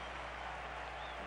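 A big crowd at a Reds–Cubs baseball game at Chicago's Wrigley Field cheers and claps as Kosuke comes to the plate, a steady, distant roar of applause.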